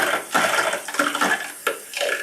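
Air and water spurt from a water pipe in bursts, a loud hissing gush that sputters and stops and restarts several times, close to the microphone.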